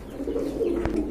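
A pair of High Flyer Budapest pigeons coos softly in a loft. A short, low, throaty coo sounds up close, with a brief tap partway through.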